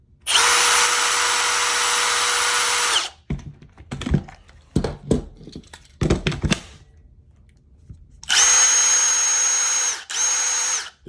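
Milwaukee M18 FUEL SURGE 1/4-inch hex hydraulic driver spinning in its third mode, a loud, smooth high-pitched whir lasting about three seconds, then scattered clicks and handling knocks, then two more bursts of the whirring motor.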